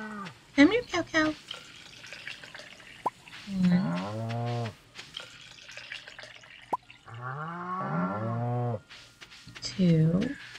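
Cows in the farming game Stardew Valley moo several times in short, separate calls, and a person talks between them.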